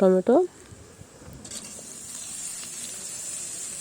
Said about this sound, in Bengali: টমেটো দিয়ে ভালো করে পেঁয়াজের সঙ্গে নাড়াচাড়া করে ভেজে নেব।